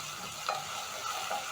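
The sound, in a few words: crushed garlic and ginger sautéing with onions in a pan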